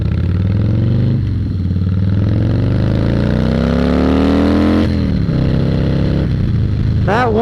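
Harley-Davidson 2016 Softail Slim S with its 110 engine accelerating hard, close and loud, rising through the gears with a steady deep rumble, a brief dip at a shift, then pulling again.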